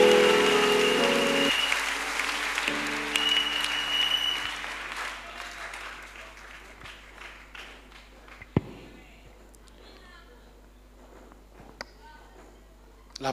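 A church congregation at a Friday evening service in Bunia, Ituri, applauds loudly in dense, sustained clapping that thins out and fades into scattered claps and quieter room noise.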